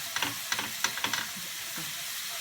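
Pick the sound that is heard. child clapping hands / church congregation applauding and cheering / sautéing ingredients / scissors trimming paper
sautéing ingredients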